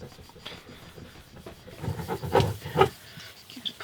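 A boat surface being polished by hand to remove scratches: soft rubbing and rasping strokes that grow louder toward the middle, close by, with no talk.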